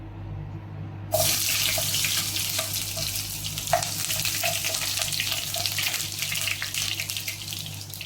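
Mustard seeds and shallots dropped into hot oil: after a quiet moment a sudden loud sizzle erupts and holds as a steady close hiss, with scattered pops and crackles.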